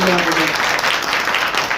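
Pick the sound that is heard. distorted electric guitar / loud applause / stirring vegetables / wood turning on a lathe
loud applause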